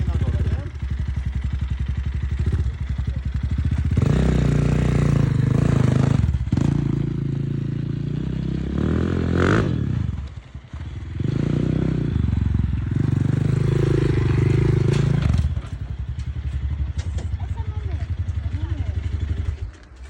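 A motocross bike engine starts and revs as the bike is ridden onto a trailer. The engine drones steadily and rises and falls in pitch under clattering and a voice talking.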